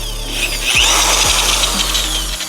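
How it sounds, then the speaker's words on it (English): A power drill spinning a ball hone inside a car engine block cylinder whirs steadily at close range, its continuous high grinding hum holding through the whole stretch with faint scraping underneath. "So I got the dingle ball on the drill."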